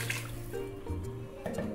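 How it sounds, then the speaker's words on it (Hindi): Water is poured into a pot of mutton korma, a soft continuous splashing and gurgling that is fairly quiet and heard alone. "ये देखिए पानी जो है इतना काफ़ी है, या थोड़ा सा और डाल देंगे, थोड़ा सा और डालेंगे।"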